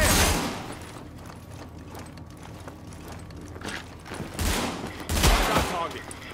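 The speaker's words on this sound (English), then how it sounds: "I need to reload." Weapon reloading in The Division shooter game, mechanical clicks and ratcheting clatter amid bursts of gunfire, loud and close with some talk mixed in.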